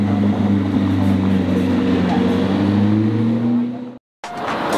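A Bugatti Chiron supercar engine drones in a deep, steady tone, close and loud, cutting off abruptly before a short, quieter tail resumes.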